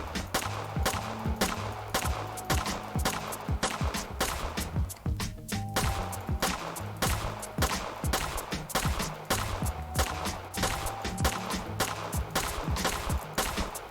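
Steady automatic gunshots in the video game Pagan: Autogeny hammer out in an even, fast rhythm, loud and close, continuing almost without pause over a droning musical background.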